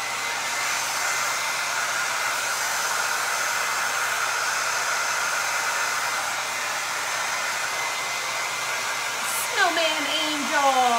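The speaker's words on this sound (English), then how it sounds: "I'm going to turn this blow dryer on." A blow dryer runs continuously at close range, a steady loud airy whoosh that holds even for about nine seconds before wavering pitches and clicks cut in near the end.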